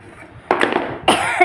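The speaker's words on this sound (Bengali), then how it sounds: "হঠাৎ করে কেন বা কাশি ভাব আসলো।" A woman's sudden coughing fit in a home kitchen while preparing garlic, ginger and cumin paste, two short loud bursts close to the mic, the second harsher.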